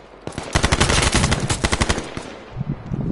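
Automatic gunfire in the H1Z1 battle royale game: a loud, close stream of rapid shots for about two seconds, then a few scattered rounds trailing off.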